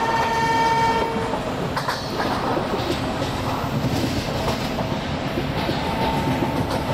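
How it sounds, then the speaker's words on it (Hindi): Indian locomotive horns sound in the Train Simulator PC game as a Coromandel Superfast Express runs. A long steady horn blast opens, with more horn tones over continuous loud rail rumble and wheel clatter, and no talk. "और भाई हॉर्न इतने प्यारे हैं ना आज के।"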